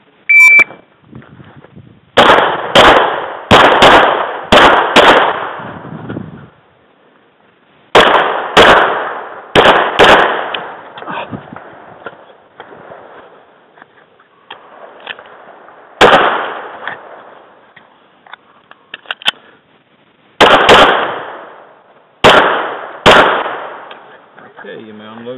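Pistol shots ring out at a club shooting match (SSP division) during a course of fire, loud sharp reports in quick clusters of several shots with short pauses between strings, heard alone.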